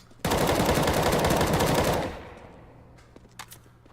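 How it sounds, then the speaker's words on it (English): Gunfire in a video game: a loud, rapid automatic burst of close shots lasts almost two seconds, then cuts off, leaving faint clicks and game noise. "You are shooting me."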